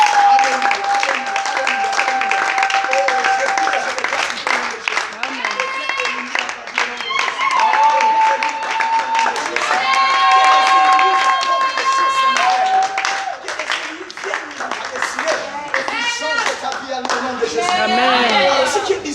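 A church congregation claps and cheers for Jesus in a French-speaking service, loud sustained applause mixed with crowd voices and sung or shouted praise over ringing music tones.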